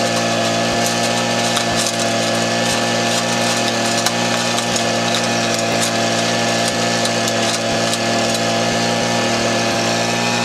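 A gold sluice operation at Cache Creek with a bouncing mat and air blown up through the bottom of the mat. It gives a dense, steady mechanical clatter and engine hum with a constant rattling texture throughout.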